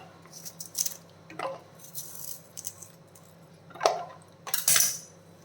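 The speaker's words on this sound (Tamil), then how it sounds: "நான் வந்து இப்போ சோப்பரில் போட்டு பண்ண போகிறேன்" Chopped vegetables with curry leaves and ginger rattle and clatter inside a manual kitchen chopper for a little millet adai batter, in a few short, fairly quiet bursts separated by pauses.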